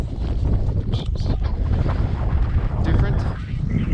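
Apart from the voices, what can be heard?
strong wind on a hillside path at Howth, Ireland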